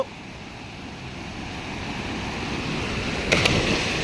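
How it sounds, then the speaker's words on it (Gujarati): Water rushes along a canal in a steady, broad wash that slowly grows louder, with a brief splashy burst near the end and no talk. "જો પાણી તો તમે જુઓ કેટલું મસ્ત પાણી હાલ્યું જાય છે"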